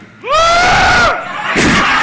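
A live audience at a Carnival retreat talk show lets out a loud, sustained group shout, a rising cry that holds for about a second, then a second burst of crowd yelling follows.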